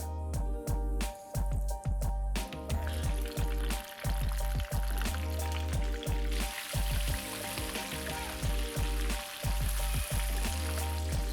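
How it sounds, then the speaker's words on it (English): Marinated chicken frying in hot oil on a medium-low flame, a soft, continuous sizzle and crackle running underneath prominent background music throughout. "Now we'll start frying it."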